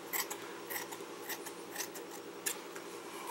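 Scissors snip through hair in quick, close, crisp cuts, several in an irregular rhythm with faint rustling between them.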